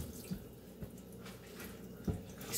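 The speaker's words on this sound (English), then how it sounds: "Gonna wash my hands again." Water running from a kitchen tap while hands are washed during icing preparation, a soft steady flow with a few splashes and drips, fairly faint and with no talking.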